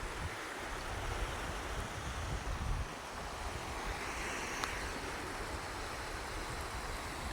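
Sea waves wash steadily onto the shore near a naval base, a broad continuous rushing surf mixed with wind noise on the microphone, with no talking.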